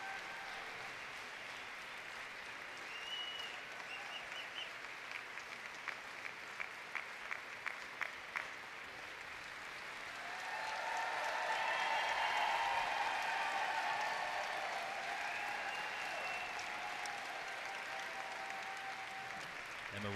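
A crowd applauds at the AKC Junior Showmanship finals for a junior handler and her Great Dane, with brief faint clapping at first, then a steady, fairly quiet swell of applause under an announcer's voice.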